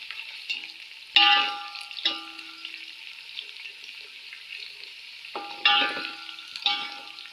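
A spoon stirs mutton pilau ingredients frying in a pot: a steady sizzle runs throughout, broken by several clanking scrapes against the metal. No one speaks.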